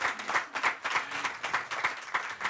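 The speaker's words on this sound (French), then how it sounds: "Du coup, faut applaudir." A small audience gives a short, sparse round of rhythmic clapping at a comedy roast, moderately quiet, with the beats distinctly separated.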